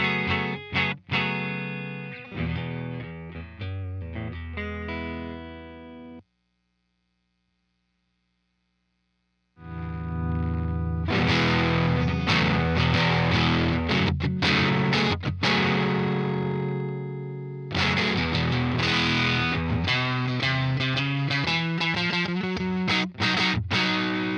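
Electric guitar played through an EarthQuaker Devices Bit Commander octave synth pedal, heard alone: buzzy, synth-like distorted notes and chords, a few seconds of silence, then louder thick riffs with sharp stabs.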